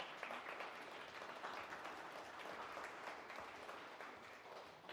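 A live audience at a business talk claps briefly, a dense, steady burst of applause filling the room at an even loudness throughout with no speech over it.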